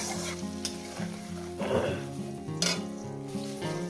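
Masala for katla fish belly curry is sautéed in a pan, giving a soft, close sizzle with repeated stirring scrapes and light clinks of a utensil against the pan.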